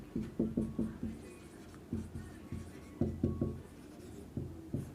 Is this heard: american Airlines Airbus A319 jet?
no